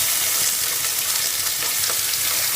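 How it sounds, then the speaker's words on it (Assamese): Chopped onion, green chili, ginger and garlic frying in hot oil for palak paneer, a loud continuous sizzle and crackle, close and steady with no voices. "তেল গৰম হৈছে প্ৰায়। এবাৰ ইয়াতে কাটি থোৱা পিঁয়াজ আৰু জলকীয়া দি দিছোঁ, আৰু আদা নহৰু"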